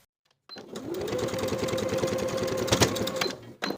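A sewing machine basts the top edge of a pocket onto a front pant piece of a summer jumpsuit, starting after a brief silence and running as a steady, close rapid stitching hum for about three seconds before stopping.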